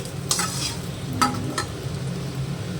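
Fried potatoes sizzle softly in a pan of oil while a utensil scrapes and taps a few times as the pieces are lifted out, close and fairly quiet.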